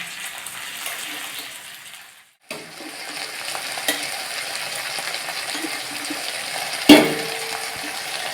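Chopped vegetables for a village-style curry drop into a hot pan with a pause and then a sudden burst of sizzling, followed by steady frying and scraping stirs, with one sharp clatter.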